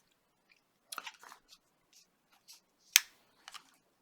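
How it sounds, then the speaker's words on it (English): A few short, crisp scraping clicks of a Chris Reeve Inyoni knife slipping in and out of its sheath, close but quiet against near silence. "I love that sound coming in and out of the sheath there."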